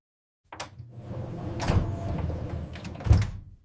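Elevator door sliding shut, a smooth mechanical rumble that swells to a soft thud near the end, with a brief click at the start, fairly close and heard alone.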